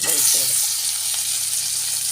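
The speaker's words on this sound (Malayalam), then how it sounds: "ഇട്ടുമ്പോൾ ഇട്ട് കൊടുക്കുമ്പോൾ തന്നെ അത് പൊള്ളുകയാണ് കാരണം അത്ര ചൂടായാണ് ചട്ടിയിരിക്കുന്നത്" Sardines sizzle and fry loudly in a very hot iron pan with a little oil and spice masala, a steady bright crackle that stays close and even throughout, with no talk over it.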